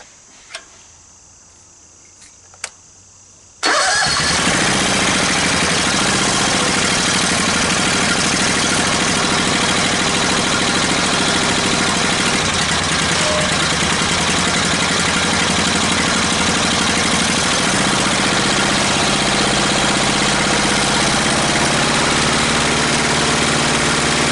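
A Honda GX630 engine sprayed with starter fluid catches after a few quiet clicks and then runs loud and steady at a constant drone with a ticking texture. Its pitch dips slightly partway through.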